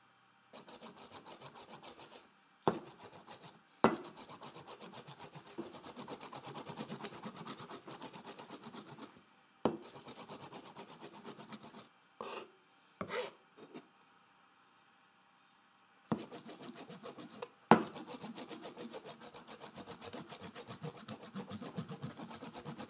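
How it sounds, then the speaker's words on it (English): A knife chops pesto ingredients and cheese on a cutting board in rapid, dense runs of strokes, with a few sharper knocks and a couple of short pauses between bursts. "Chop until everything is evenly combined but still a bit rustic looking, like this."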